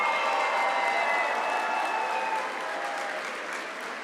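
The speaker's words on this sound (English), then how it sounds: "So one more round of applause for family members, caregivers, and survivors" Audience applause for family members, caregivers and survivors at a veterans' national convention welcome session, a steady wash of many hands clapping that fades slightly toward the end, with no talking.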